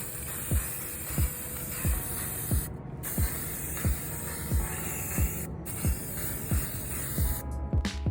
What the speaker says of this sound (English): I am spray painting these a beige color.